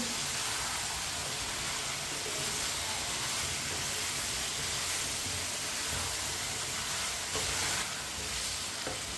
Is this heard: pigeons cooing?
no